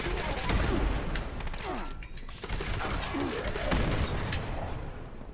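Explosive railway rifle rounds detonating in Fallout 76, a rapid series of crunching blasts and cracks overlapping one another at close range, dense and continuous like a fireworks barrage.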